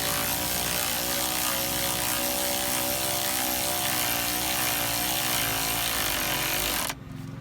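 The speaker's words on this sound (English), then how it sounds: "I don't use the maximum speed on my gun, I just like to get it tightened down most of the way" An impact gun runs continuously on a bolt of a Ford Transit, a loud steady whirring buzz that holds for about seven seconds before cutting off abruptly.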